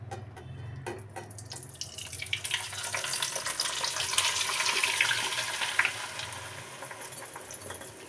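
Mustard and coconut oil with a herbal paste for homemade hair oil bubbling and sizzling in a wok, a steady broadband hiss that builds and holds, close and fairly loud, with no talk.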